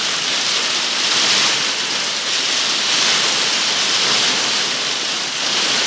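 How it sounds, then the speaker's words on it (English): Hail comes down outdoors in a dense, continuous rush of pattering hiss that stays loud and even throughout, with no voices. "now it is virtually hailing"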